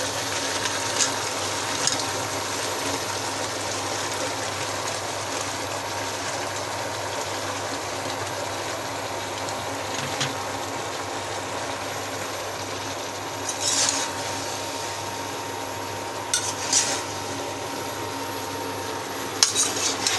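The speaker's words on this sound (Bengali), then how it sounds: "এই যে শাপলাগুলো দিয়ে দিচ্ছি।" Water lily stems go into a pan cooking with hilsa fish and mustard paste in a village kitchen, giving a steady wet sizzling hiss broken by a few faint utensil clinks, close and without talk.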